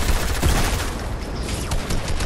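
Rapid bursts of gunfire from a Fortnite match crackle loudly and nearly continuously, a fusillade of overlapping shots with no talking.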